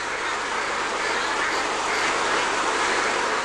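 A dense chorus of many ducks quacking at once on an intensive duck farm, loud and constant, forming a continuous clamor with no pauses.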